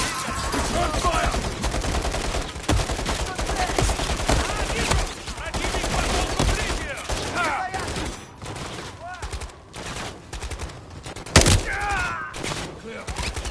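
Dense gunfire bursts through a Call of Duty Black Ops 6 video game cutscene, with rapid volleys and heavy impacts running continuously over shouted voices and chaotic background noise.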